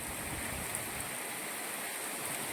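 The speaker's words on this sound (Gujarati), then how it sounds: "એક ધારું પાણી જાય છે ભાઈ બજારમાં જોઈ લે" Rainwater runs in a steady stream down a market street in Mota Gop, Gujarat, during monsoon rain: a continuous broadband wash that stays even and moderately loud for the whole stretch, with no voices.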